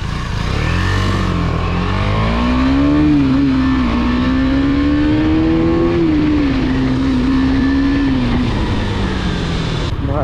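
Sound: KTM Duke 250 motorcycle exhaust while riding

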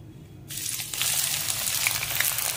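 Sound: sliced onion added to hot mustard oil, sizzling

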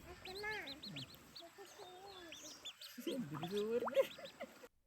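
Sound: ducklings swimming in a river

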